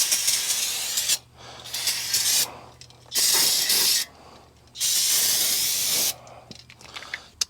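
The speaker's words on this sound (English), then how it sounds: "I'm going to go ahead and spray it down with brake cleaner." Brake cleaner sprayed in three long bursts onto the front brakes of a first-generation Honda Ridgeline, close and loud hissing with short gaps and quieter handling noise between.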